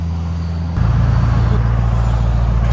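A 2025 Mercedes GLE 63 S with a 4.0-liter bi-turbo V8 and straight-pipe exhaust, loud and close, with a low idle drone that jumps abruptly into a harsher, stronger rumble and stays there.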